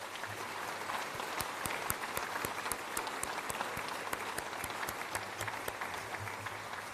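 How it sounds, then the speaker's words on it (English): Audience applause at a 2022 Queen's Birthday Honours investiture ceremony, dense sustained clapping from a large crowd filling the room, steady and even throughout. "can we please keep the applause going?"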